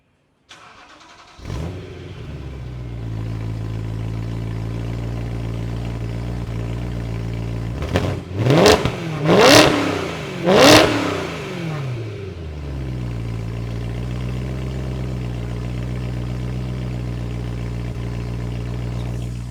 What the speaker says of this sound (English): we can have a good listen to what that V8 sounds like